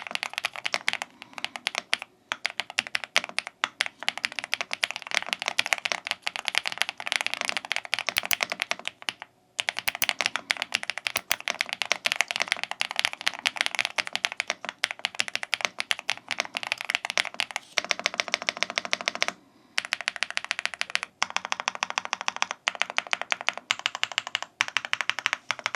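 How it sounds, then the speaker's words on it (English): The EWEADN X87 mechanical keyboard is typed on continuously and close up, with rapid crisp clicky keystrokes and a few brief pauses. Typing runs throughout, with no talking. "before we will take a closer look what we have inside this keyboard, let's do a quick sound test"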